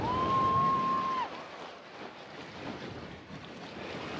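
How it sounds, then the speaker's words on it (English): Strong wind gusting across a waterfront on Tampa Bay at Safety Harbor, Florida, a steady broadband roar with rumbling microphone buffeting, water noise beneath and a brief high tone near the start. "That is a strong wind."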